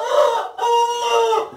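A Jersey Giant rooster gives a loud, close crow in two strong drawn-out phrases, with hens clucking faintly among the ornamental poultry.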